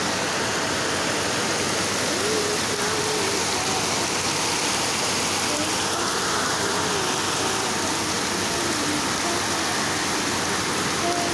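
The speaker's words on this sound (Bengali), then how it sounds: "অনেক জোরে বৃষ্টি নামছে, অনেক জোরে।" Heavy rain pours down in a steady, dense roar of broadband hiss, loud and unbroken throughout, with no voices.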